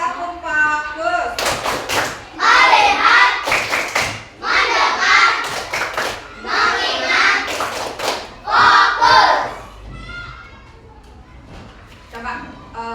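Children in an Indonesian classroom perform a patterned focus clap, loud bursts of rhythmic group clapping alternating with chanted voices, repeated several times before fading to quieter talk.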